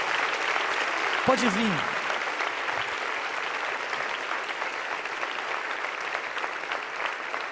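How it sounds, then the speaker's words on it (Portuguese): A church congregation at a worship service applauds steadily and broadly, filling the space with sustained clapping while someone briefly speaks over it near the start. "Vamos aplaudir essas pessoas que estão chegando, gente, por favor."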